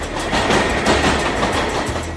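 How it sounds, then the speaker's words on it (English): A Korean metro subway train rolls along with a loud, steady rumble and faint rhythmic rail clatter, heard from inside the car. "Take a ride on the metro. It's more than just a subway ride."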